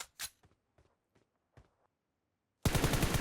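Scattered distant gunshots in PUBG Mobile, a handful of faint single cracks spaced irregularly, then an abrupt loud, rapid burst of close automatic fire at the end.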